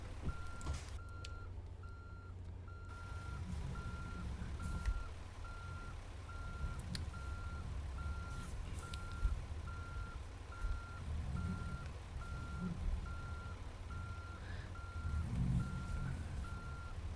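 A heavy truck in American Truck Simulator reverses with a steady, evenly spaced electronic beep repeating over a low engine rumble, the beeps continuing at a regular rhythm throughout.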